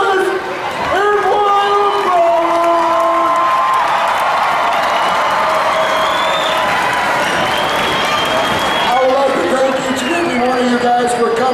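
A large crowd at a monster truck freestyle show at the Clark County Fair cheers and applauds loudly and steadily, with whistles and whoops rising above the roar.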